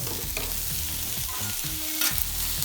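Butter sizzling on a very hot Blackstone griddle, a steady bright frying hiss throughout, close and alone, with a brief spatter near the end.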